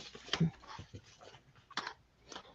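A puppy whimpers softly in short, faint whines and breathy sounds, close by, with quiet pauses between them.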